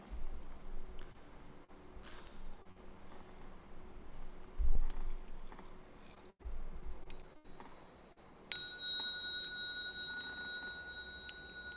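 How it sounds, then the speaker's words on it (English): A Buddhist temple bell is struck once late in the clip, its bright metallic tone ringing out and sustaining clearly over quiet, hushed room ambience with faint scattered shuffles. "Bell sound wide resounds throughout 100 million worlds."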